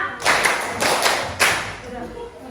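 Classroom students clap in a counted rhythm during a fifth-grade lesson, a few sharp bursts of hand claps spaced unevenly, close by, with voices talking between them.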